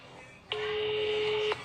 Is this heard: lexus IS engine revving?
no